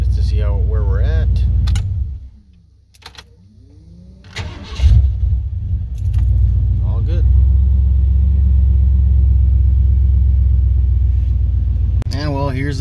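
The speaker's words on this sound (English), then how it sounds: "let's do another crank. See how we fire up this time." A truck engine with a hard-starting fault cranks with a whirring starter, briefly quiets, then fires up and settles into a steady, rumbling idle, close by.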